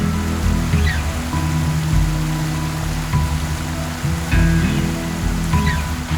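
A waterfall pours into river pools, a steady rushing water noise heard up close and continuous throughout, with a few faint scattered tonal chirps over the flow.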